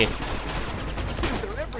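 Continuous gunfire from the video game Uncharted 2: Among the Thieves, a dense rattle of rapid shots and bursts running loud and unbroken through the whole moment.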